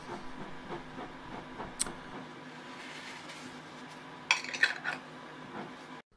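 Metal lids clink and clatter onto hot glass jars of homemade beetroot relish, two sharp taps early and a brief cluster of rattling clicks later against a quiet kitchen background, with no voices.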